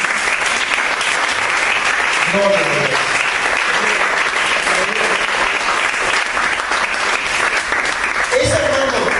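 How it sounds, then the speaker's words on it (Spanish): Church congregation applauding loudly and steadily throughout, with voices calling out praise over the clapping. "Den aplauso al Señor."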